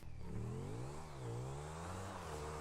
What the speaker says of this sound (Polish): Gandalf jedzie na motorku, Gandalf rozpędza się